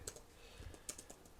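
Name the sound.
typing on a computer keyboard with one hand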